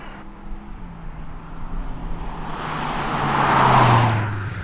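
A Skoda SUV on 20-inch wheels drives around town, a steady engine and tyre hum that swells gradually as it nears, peaking loudly before easing off slightly at the end.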